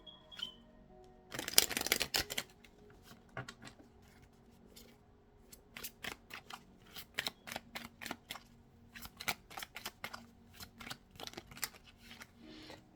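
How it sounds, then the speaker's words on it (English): Tarot cards being shuffled by hand, a long dense riffle burst early followed by a steady run of sharp, close card taps and flicks, with no talking. "Spirit said shuffle the cards."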